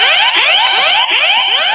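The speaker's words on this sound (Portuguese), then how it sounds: "Parece que meu alarme da moto está tocando." A motorcycle alarm wails loudly and continuously nearby, its siren tone sweeping upward in rapid repeating cycles about three times per second, with no talk.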